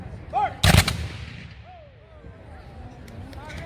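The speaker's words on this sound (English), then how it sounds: "The rear rank is loaded, now they can fire." Civil War reenactors fire a volley of muskets outdoors, one sharp, loud blast with a brief rumbling tail. Voices and crowd sounds murmur before and after it.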